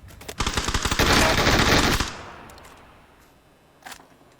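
Automatic gunfire bursts loudly from about 0.3 to 2 seconds in the battle royale video game PUBG, a rapid dense volley that fades into a decaying echo, with a faint extra shot near the end.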